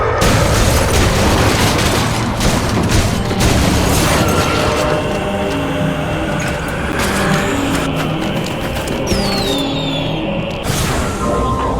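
Fireworks burst over and over in the video game Shadows of the Damned, loud booms and crackling pops layered over a sustained musical score.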